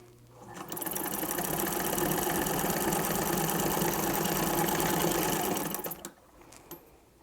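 A vintage Singer sewing machine fitted with a two-thread embroidery attachment runs fast and steady for about five seconds, a loud close whirring rattle that starts abruptly and stops, then a few faint clicks.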